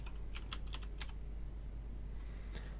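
Fingers type user info and a password into an app login on a computer keyboard, giving a quick close-up burst of clicking keystrokes, a pause, then a few more taps near the end, with no talking.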